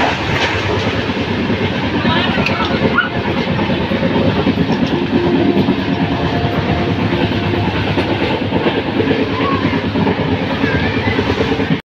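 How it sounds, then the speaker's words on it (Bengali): A slow-moving train rolls along with a steady, close rumble and rhythmic rail clatter that carries unbroken for about twelve seconds. "ধিমি ধিমি গতিতে আমাদের ট্রেনটা এগোচ্ছে।"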